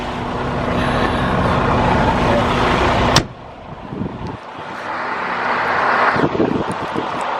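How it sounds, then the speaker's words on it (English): Strong wind blowing outdoors, loud buffeting gusts roaring across the microphone in long surges, with a sharp break partway through before another heavy gust builds. "It may be a little windy outside, just to warn your eardrums."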